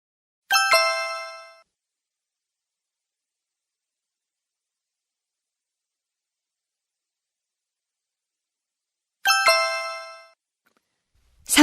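Phone call ringing: two separate bursts of a bright chiming electronic ringtone roughly nine seconds apart, each about a second long, with silence between and no talk.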